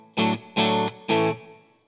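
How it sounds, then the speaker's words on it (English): Three sustained electric guitar chords strum out one after another, played on bridge and middle single coils through a small Fender Pro Junior amp, each ringing briefly with a touch of reverb before the next. "I'm plugged into this little Fender Pro Junior amp."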